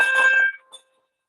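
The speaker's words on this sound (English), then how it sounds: "So I'm ringing it back and forwards, and it's just going like the clappers, really." A handbell shaken back and forth rings out in a short, bright burst of clanging strokes, then fades quickly, with one faint extra stroke before the sound dies.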